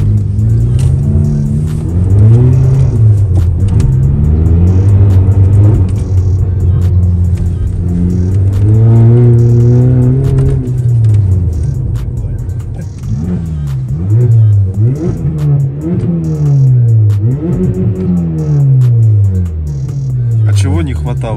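Volkswagen Passat tuned to Stage 2+ with a modified exhaust revs repeatedly, loud rising and falling engine pitch sweeps close by, with a longer sustained pull in the middle and a run of quick throttle blips later.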